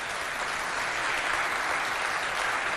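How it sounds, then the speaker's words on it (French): A crowd at a school competition applauds steadily and loudly, dense clapping with no pauses throughout. "On l'applaudit bien fort."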